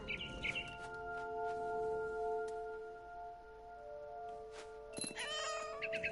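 A cat meows repeatedly in the video game What Remains of Edith Finch, sounding close and clear over a soft ambient musical drone, with brief bird chirps near the end.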